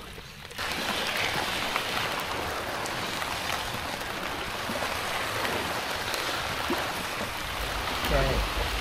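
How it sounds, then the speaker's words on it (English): Steady rain falls outdoors over rice paddies in Cambodia, a dense continuous hiss of drops that holds at an even level throughout. "So it's been raining pretty much nonstop ever since we got back from our little trip out in the water on the rice paddies."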